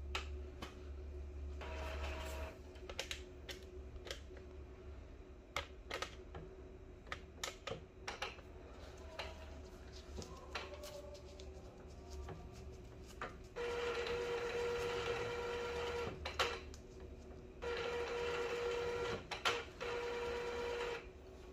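An Epson L805 inkjet printer powers on and runs its initial ink priming, giving off a steady mechanical hum broken by clicks and whirring bursts, with two longer stretches of louder motor running.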